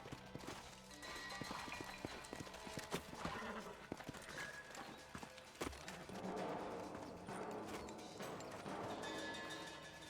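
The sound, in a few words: horses clip-clopping in Red Dead Redemption video game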